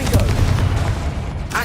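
A Confringo blasting spell explodes in the video game Hogwarts Legacy, a dense rumbling boom with low-end weight that lingers under game-battle noise, with a brief voice near the end.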